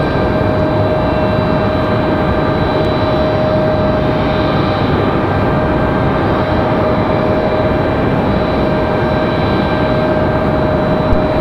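A jet aircraft taxiing at Raleigh-Durham International Airport, a loud, constant engine roar with a steady whine, unbroken and close throughout, with no voices.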